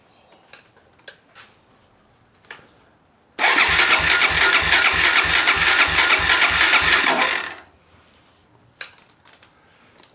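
A motorbike engine cranks on a weak battery in one sustained burst of about four seconds, a rapid, even churning pulse that never catches, framed by quiet clicks and small handling noises before and after.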